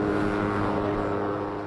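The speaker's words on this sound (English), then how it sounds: "Helicopters search overhead looking for anyone stranded in the latest area in the path of lava from the Kilauea volcano" Helicopters searching low over the path of the Kilauea lava flow, a steady droning rotor and engine roar overhead, loud and continuous, slowly easing at the end.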